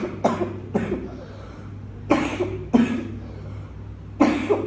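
A child with a chronic cough coughs in five separate bursts, two close together near the start and three more spaced out after, each loud and harsh against a steady low background hum.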